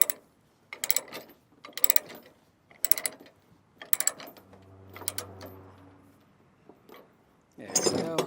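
A Durabilt ratchet chain binder cranked to tighten chains: several crisp, loud ratcheting clicks in bursts with pauses, a low hum in the middle, and a louder rattle at the end.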